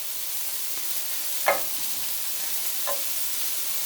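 Green beans frying in a butter and garlic mixture, a steady close hiss of sizzling with two brief clacks of the beans being dropped or stirred in the pan.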